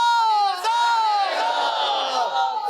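A large audience at a naat competition between Gujranwala and Islamabad shouts back in unison in response to a slogan, a loud sustained chant with rising and falling voices that fills the whole moment.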